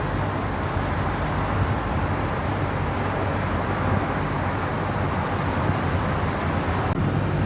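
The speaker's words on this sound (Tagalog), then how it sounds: "Daming mga sasakyan no." Steady wash of street traffic seen from a home terrace, many vehicles rumbling together in a continuous, moderately loud drone with no clear individual passes and no talking.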